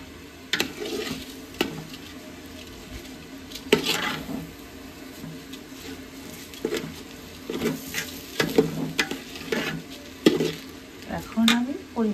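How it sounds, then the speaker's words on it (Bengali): Rice being lightly fried with spices in a pan for Eid pilau, heard as soft sizzling broken up by repeated scraping stirs and clinks of a utensil against the pan, close and moderately loud. "এখন চালটাকে আমি মশলার সাথে হালকা ভাজবো"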